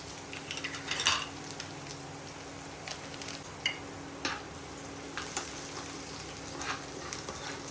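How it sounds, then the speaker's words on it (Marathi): Garlic frying in oil over a low flame for chivda, a steady close sizzle with occasional small crackles and pops, and no voices. "हा लसूण व्यवस्थित तळून घेते"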